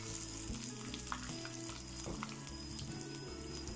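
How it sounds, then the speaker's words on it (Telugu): Dried red chillies and curry leaves sizzle and crackle in hot oil during a tempering for raw banana chutney, a close, steady fry with small pops and a faint stirring scrape throughout. "ఇప్పుడు నేను ఎండుమిర్చి వేస్తున్నాను తర్వాత కరివేపాకు వేసుకుంటున్నాను"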